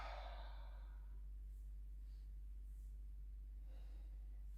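A single long, breathy exhale during a Pilates exercise, soft and close at the start, fading into a quiet background hum with faint further breaths.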